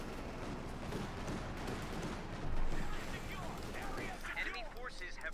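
Gunfire in a World War II-style tank and infantry video game, a dense rattle of machine-gun bursts and distant booms layered under a voice, with a louder burst in the middle.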